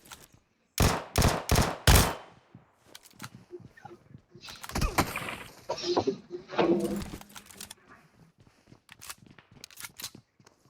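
Gunfire in a video game where players hunt for weapons among buildings: a quick burst of four loud, sharp shots, followed by quieter clicks, rattles and scattered game effects.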